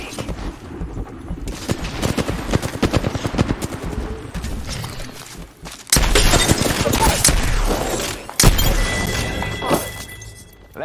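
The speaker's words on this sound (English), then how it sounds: "Opening fire on the enemy." Gunfire in an intense team shooter video game, with bursts of rapid shots, sharp impacts and crashes, loud and continuous with sudden heavier blasts toward the end, and no clear talk.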